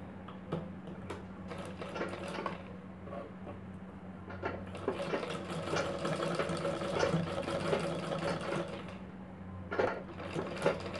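A sewing machine runs in short and longer bursts stitching a cup blouse, its steady mechanical whirr and rapid ticking fairly close and alone.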